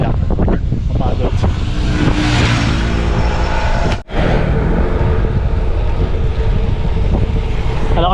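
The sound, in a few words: strong wind blowing on gravel bike ride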